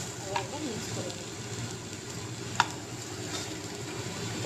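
Onion stalks frying in a pan with mustard and sugar, stirred steadily, giving a soft continuous sizzle with occasional scraping clicks, under someone speaking.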